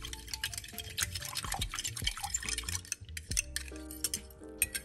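A fork clinks and scrapes against a container while stirring yeast into milk for homemade bread, producing quick, irregular metallic taps and swirls that are close and fairly quiet.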